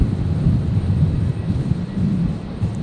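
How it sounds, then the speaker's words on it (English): Air New Zealand Airbus A321neo jet at Brisbane airport on a stormy night, a deep, rumbling engine drone that stays loud and steady throughout, with low booming texture and no voices. "So the New Zealand 321 Neo, there it is"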